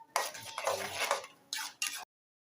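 Cake halwa is stirred and roasted in a pan, a spoon scraping and clinking against the metal in a few close, quiet strokes with short pauses between them.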